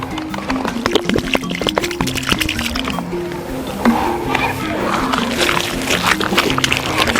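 Water poured and worked into a cow dung mix for smearing an African hut, with wet squishing and sloshing at close range while a voice and other sounds pass in the background.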